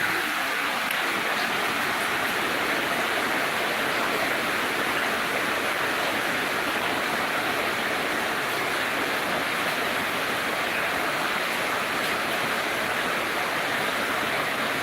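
Heavy rain pours with floodwater at night in Medan, a dense, unbroken roar that stays steady and loud throughout with no voices.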